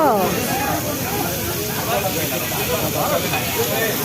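A strong, steady hiss of chilies frying in a hot pan, with a voice talking over it.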